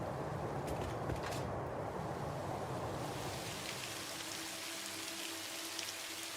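Steady rainfall in the video game Satisfactory, a dense even hiss of drops on surfaces that continues unbroken throughout with no voices.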